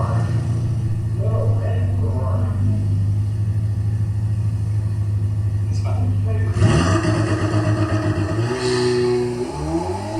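A Ferrari 488 Pista launches on a quarter-mile drag strip, its engine droning steadily, then roaring louder as it pulls hard and shifts up, with the pitch climbing and dropping at each gear change.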